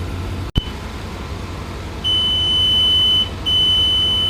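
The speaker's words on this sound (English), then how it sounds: "So that beeping noise tells us that the flush is complete." A transmission flush machine on a Chevrolet Silverado gives a sharp click, then a steady high electronic beep that holds for over a second, pauses briefly, and resumes over a low background hum.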